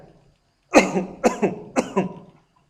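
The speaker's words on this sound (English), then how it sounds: "this is the coughing sound is coming in our recorded voice" Three close, sharp coughs in quick succession after a brief silence, loud and near, with quiet afterward.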